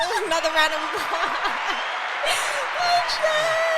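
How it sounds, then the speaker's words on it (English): Audience applause at an interview event, a steady wash of clapping with scattered chuckles and whoops from the crowd, a voice talking over it throughout. "Can we get another round of applause?"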